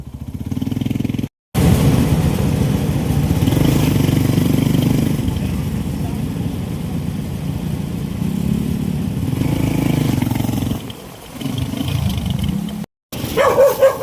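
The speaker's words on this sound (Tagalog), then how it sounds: "nakasakay na po kami ng tricycle" A tricycle ride toward Balayan gives a continuous, loud engine drone and road rumble from close by, with brief cut-outs and people talking at times over the motor.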